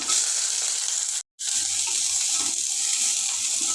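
Mustard seeds and cumin fry in hot oil with a constant bright sizzling hiss, broken by one brief moment of silence.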